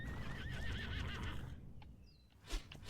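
A horse in the video game Horse Life whinnies loudly in a wavering call, then a few sharp clicks and a short snort follow.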